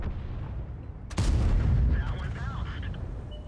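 In a video game, a single heavy artillery blast booms out sharply, then trails into a long rolling rumble, with a faint voice heard over the fading echo.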